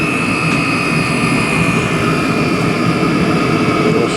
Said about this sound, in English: Better do a rundown now.